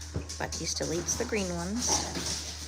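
Dogs whimper and yip faintly in the background of a home while someone talks over them; their thin, high cries come in short bursts behind her voice.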